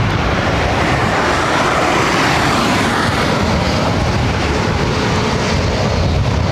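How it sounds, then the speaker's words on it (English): Delta aircraft taxiing and departing at LAX in a busy lineup, giving a loud, continuous rumbling jet roar with steady broadband noise throughout. "Parade of Delta aircraft"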